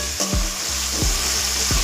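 Onion and tomato sauté in a pan for a village-style brinjal kuzhambu, loud close sizzling with a few quick sweeping stir strokes in a short burst.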